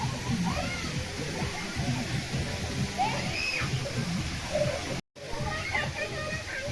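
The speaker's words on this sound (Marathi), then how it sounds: "या साईडला छोटी नदी आहे" A small river flows with a steady, even rush of water close by, and faint voices drift in now and then.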